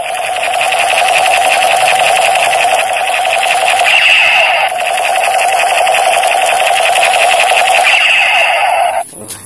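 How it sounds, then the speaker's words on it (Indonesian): A toy assault rifle fires a rapid electronic buzzing burst, a loud continuous rattle with a tonal whine, cutting off abruptly near the end. "Wow, senapan serbu lagi teman-teman."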